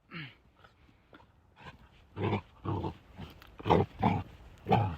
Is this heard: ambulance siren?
no